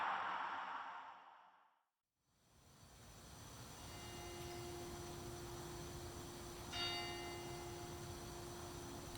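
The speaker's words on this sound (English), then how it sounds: "The bells you hear are ringing to warn the people to evacuate the city" Church bells ring out a warning for a city evacuation in a 1938-style War of the Worlds radio drama, faint and distant behind steady broadcast hiss, with a brief dropout early on and a steady ringing tone throughout.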